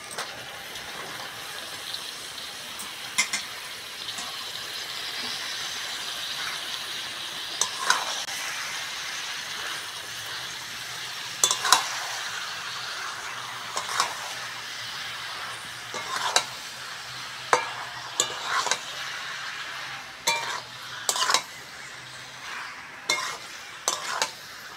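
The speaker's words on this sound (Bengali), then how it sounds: "বাঁধাকপির সঙ্গে মশলাটা ভালো করে কষে নিয়েছি" Boiled cabbage being stir-fried with spices in a pan, a steady sizzle with repeated scraping and stirring strokes of a utensil against the pan, close and alone without talk.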